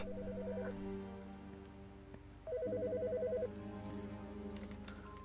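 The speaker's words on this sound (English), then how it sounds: "The fucking phone." A telephone in the video game Autopsy Simulator rings in two electronic warbling bursts separated by a pause, loud and close over a low steady background hum.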